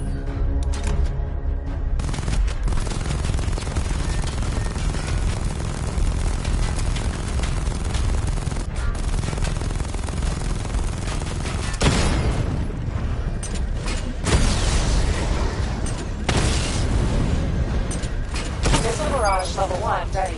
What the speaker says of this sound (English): Destroy targets to charge up weapon energy and activate missile barrage.